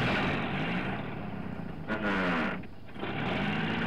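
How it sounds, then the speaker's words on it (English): A noisy truck engine in the video game Fallout: New Vegas drones steadily while driving, its pitch rising and sliding in a brief rev near the middle before settling back. No talking. "Very noisy magic truck that drives itself everywhere,"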